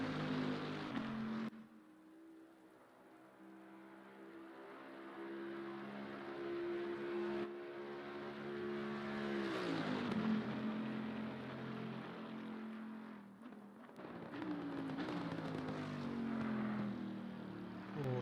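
GT race cars roar through Spa's Eau Rouge in the racing game Assetto Corsa Competizione, engine notes rising and dropping with gear changes and throttle lifts, several cars heard in sequence at moderate volume with no talking.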